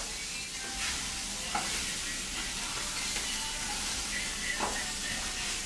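Ground meat for albondigas being mixed and stirred by hand, with soft steady squelching and scraping over a faint background hiss, close up and fairly quiet, no talking.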